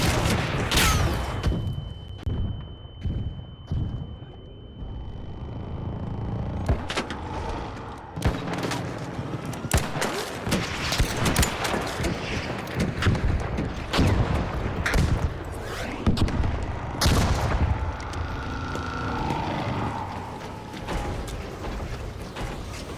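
A video game battle in which a volley of gunfire erupts in sharp, loud cracks and booms, mixed with clanking mechanical sounds, after a quieter opening. The shots come in irregular clusters and continue through most of the stretch.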